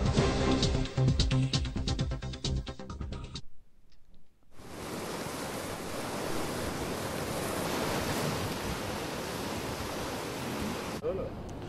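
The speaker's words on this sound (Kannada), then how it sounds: "ಅಬ್ಬರದ ಮಳೆಗೆ ಇದೀಗ ಕಾಳಿ ನದಿ ಕೂಡ ತುಂಬಿ ಹರಿತಾ ಇದೆ" The Kali River runs in flood below Kadra Dam in Uttara Kannada after heavy rain, and dam water is being released into it. A loud, steady broadband roar of rushing water fills the clip after a brief cut, following a noisier opening section.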